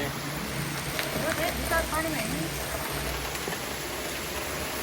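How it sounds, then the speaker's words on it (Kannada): Dense, steady hiss of heavy rain pouring down, broadband and unbroken, with faint voices talking briefly in the background. "ನೋಡ್ರಿ ಹೆಂಗೈತಿ ಮಳೆ"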